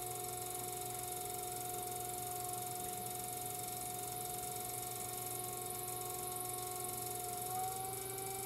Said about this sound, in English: So at the beginning of the process, I'm spinning the wheel a lot faster